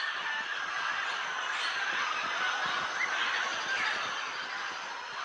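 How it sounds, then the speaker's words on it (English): Thousands of blue-headed and Amazon parrots and small macaws gathered at remote clay cliffs make a dense, continuous chorus of overlapping squawks and chatter that stays steady and loud throughout, with no voices. "thousands of blue-headed and Amazon parrots and small macaws congregate at a few remote cliffs of clay."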